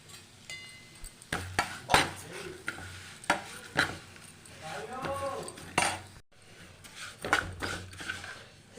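Metal spoon scraping and clinking against a pan as coriander seeds are stirred in hot ghee, with repeated sharp strokes over a soft background sizzle; no talking.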